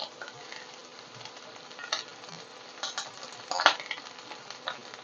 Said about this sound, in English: we're going to throw in our onions